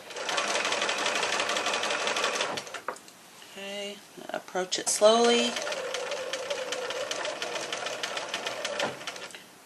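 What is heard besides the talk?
sewing machine stitching a market bag handle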